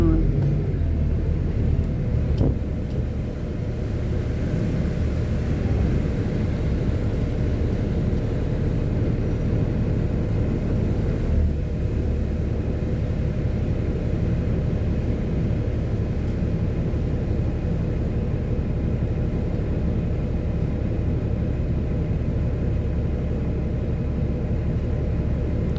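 Steady low road rumble of traffic heard from inside a moving car on a rainy day, a continuous muffled drone that holds evenly throughout with no distinct passing events.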